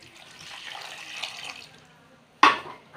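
Water is poured into a cooking pot holding lentils, potatoes and a pinch of turmeric for a homestyle curry, a close, trickling stream that fades, then a sharp splash near the end.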